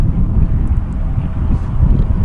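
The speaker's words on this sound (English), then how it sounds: "And it's still breezy out here" Breezy outdoor wind buffeting the built-in microphone of a Sony A6000 camera, a constant loud low rumble with gusty fluctuations and no other clear sounds.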